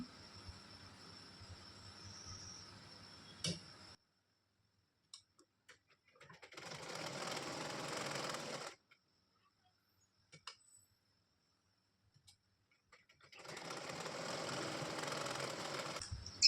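A household sewing machine stitches fabric for a hair scrunchie in two separate bursts of steady rapid whirring, with quiet gaps and a few small clicks and handling noises between runs, no voices.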